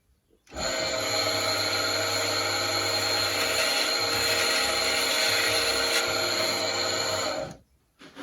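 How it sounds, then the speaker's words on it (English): Chisel held lightly against the side of a spinning grinding wheel, a steady loud whining grind close by that starts abruptly, holds evenly for about seven seconds and then cuts off, with no speech. "I'll start the wheel again and I'll put the chisel up against here and I'll just touch very lightly on the side of the wheel"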